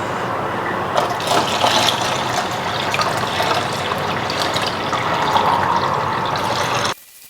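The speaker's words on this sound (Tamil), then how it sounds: "இதை யூஸ் பண்ணி தான் நான் வந்து வாட்டர் ஃபில் பண்ண போறேன்." Stored water poured steadily to refill a fish tank, a continuous close gushing and splashing fill lasting about seven seconds before stopping abruptly.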